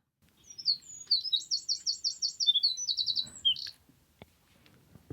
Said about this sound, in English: First bird call.